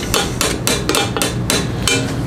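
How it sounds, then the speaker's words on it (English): Repeated metallic hammer strikes on a bicycle chainring of an old Trek mountain bike, about seven loud, sharp blows at a fairly regular pace, close up. "just kind of beat it with a hammer one way"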